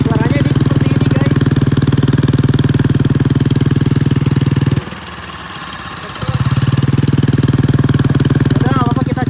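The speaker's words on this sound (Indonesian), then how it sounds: "Ini karena knalpotnya bocor, tuh suaranya ini seperti ini guys." A Honda Beat motorcycle with a leaking exhaust idles close by, a loud, rapid, rattling putter that cuts out briefly and then resumes at the same steady rhythm.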